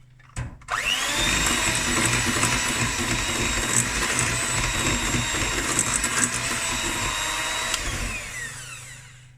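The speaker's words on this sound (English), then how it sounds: "I do it like this, so with a hand mixer" An electric hand mixer beats cookie dough in a bowl, a loud, steady motor whine that starts abruptly, runs for several seconds and winds down at the end, without talk.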